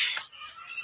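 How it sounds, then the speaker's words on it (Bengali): A few faint, high chirps from birds at a zoo on a winter morning come in a brief burst, with quiet surroundings between them. "পাখির কিচিরমিচির আওয়াজ"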